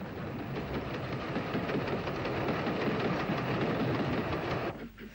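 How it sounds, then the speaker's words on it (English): A steam tank engine hauls a down train from Dublin around the curve through Finnehy, a steady loud rumble with rhythmic rail clatter that drops away sharply near the end. "Another one of these ubiquitous tank engines leans on the curve through Finnehy with a down train from Dublin"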